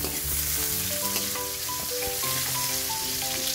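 Onion goes into a pan of frying garlic for the Filipino fish dish pesang asohos, raising a loud, dense, steady sizzle and crackle that runs continuously, with no talking.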